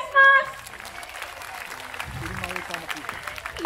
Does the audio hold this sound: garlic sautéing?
no